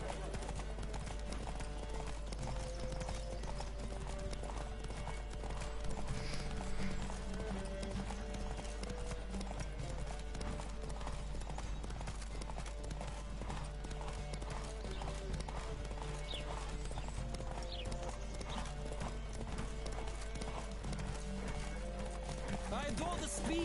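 A horse gallops in The Witcher 3 video game, a continuous rhythmic clip-clop of hooves over game music and ambience, steady and fairly loud throughout.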